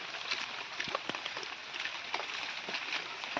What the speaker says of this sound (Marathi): एकदम मुसळधार पाऊस चालला आहे